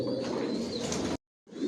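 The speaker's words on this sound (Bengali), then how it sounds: "সব একই লাইনের কবুতর পালি, জনসনের লংয়ের" Racing pigeons in a loft coo steadily and fairly close, a dense murmuring chorus that cuts off briefly near the end before picking up again.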